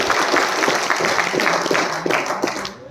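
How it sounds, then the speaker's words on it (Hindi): A crowd applauds at a presentation on alkaline water, greeting a man called Mr. P. K. Verma. Dense clapping runs steadily and fairly loud for the whole stretch, then thins slightly at the end. "दादा के लिए जोरदार तालियां मिस्टर पी के वर्मा।"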